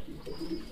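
A pigeon at a fancy pigeon farm gives a short, soft, low coo, heard faintly and briefly with no talking.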